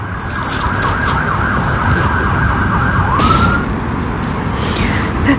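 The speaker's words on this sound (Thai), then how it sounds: "สรุปรถวอที่เพิ่งผ่านไป ไม่ใช่ทั้งรถดับเพลิงและรถตำรวจนะคะ เป็นรถพยาบาลค่ะ" An ambulance siren wails loudly as it passes near a roadside where wild garlic shoots are being gathered. Its rapid warbling tone holds steady for about three seconds, then shifts to a rising sweep over constant traffic rumble.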